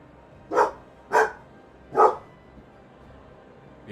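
A dog barks three times in separate, loud, close woofs spaced about half a second apart, then quiet room tone follows.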